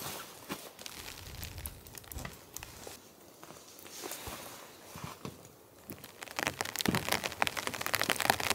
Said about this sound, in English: Rain starting to come in and some wind.